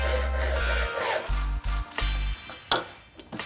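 A hand saw cuts dovetail tails in a wooden board, with steady rasping strokes under a low, pulsing background hum, close and continuous with no speech.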